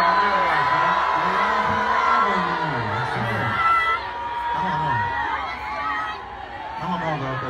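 A crowd cheers and whoops at a Ludacris concert in Philadelphia, rising and falling in bursts of shouting. Nearby voices talk loudly over the noisy hall ambience.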